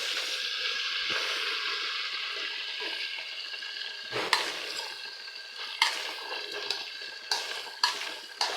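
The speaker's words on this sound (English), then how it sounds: "We have to fry this tomato very well" Tomato paste fries in a pot with a steady soft hiss, while a spoon scrapes and knocks against the pot in a string of sharp clicks during the later seconds. Quiet and close, with no voices.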